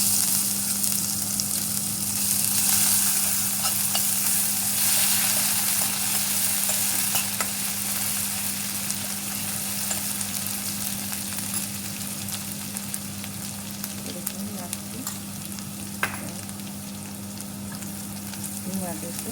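Ginger, green chili and garlic paste fries in hot oil for a Kathiyawadi dhokli curry, a loud continuous sizzle that slowly settles, with a low steady hum beneath and occasional light stirring clicks.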